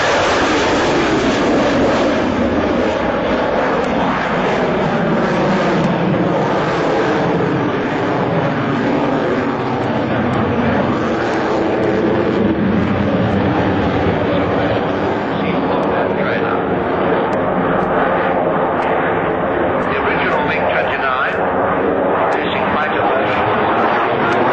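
Military jet aircraft flying at the Farnborough Airshow in 1992, a loud continuous engine roar that holds steady for the whole stretch while a commentator talks over it.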